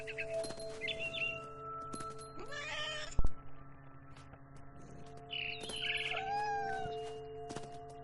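Bright electronic-sounding bird chirps in the game What Remains of Edith Finch come in short bursts, with a meow-like call and a sharp thud, all over a steady humming background.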